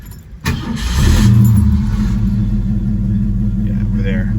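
A 55-year-old Ford Mustang cranks briefly, then its engine catches and settles into a loud, rumbling idle close by, while a voice speaks over the start.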